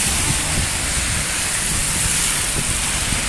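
Steady, loud outdoor roar of rain driven by strong wind, a dense continuous hiss with faint low rumbling underneath and no voices.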